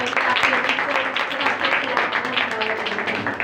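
Congregation applause at a Hindi-language Christian church service, a dense, steady wash of clapping that runs throughout with voices mixed in.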